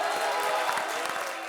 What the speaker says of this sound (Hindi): इसी बात पे ठोको ताली।